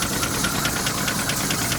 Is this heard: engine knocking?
yes